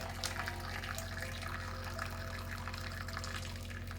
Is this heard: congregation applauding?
no